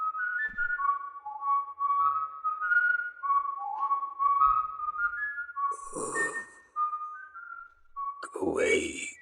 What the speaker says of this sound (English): Stop that infernal whistling.